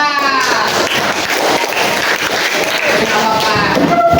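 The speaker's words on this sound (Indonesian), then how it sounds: "itu tepuk tangan dulu buat kelompok 4" Classroom applause for a student group during a coding and artificial intelligence lesson: a burst of mixed clapping from the class, loud and close, with voices chattering through it.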